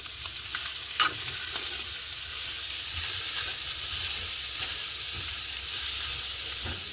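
A Sri Lankan dried anchovy dish is stirred in a hot frying pan, giving a steady broad sizzle with occasional scraping clicks of the spoon. One sharper tap comes early, and the sound is close and unaccompanied by any voice.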